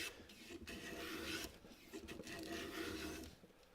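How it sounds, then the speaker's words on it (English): A hand plane shaves down a wooden board for a wall cabinet, several soft rasping strokes in a row separated by short pauses, quiet and close, with no talking. "planing down to my line"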